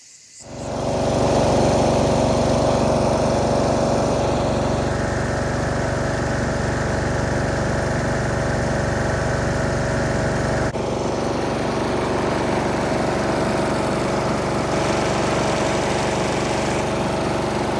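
A lawn mower engine mowing cemetery grass starts up and runs loud and close, a steady droning roar that holds without a break and shifts slightly in pitch partway through.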